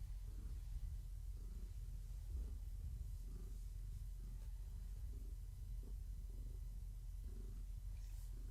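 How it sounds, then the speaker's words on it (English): A pregnant cat purrs close to a microphone, a soft low continuous rumble with gentle rhythmic pulses running steadily throughout. "Come purr for the mic."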